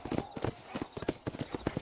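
Horse hooves clip-clopping at a steady walking rhythm in the Red Dead Redemption video game, a brief run of regular, fairly faint hoofbeats heard alone.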